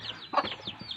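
A chicken gives a brief cluck up close, with faint high chirps from chicks around it.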